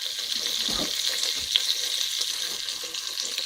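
Potatoes frying in a pan with cumin for a potato curry, a constant bright sizzle with a couple of low clunks from stirring early on, near and fairly loud with no talking.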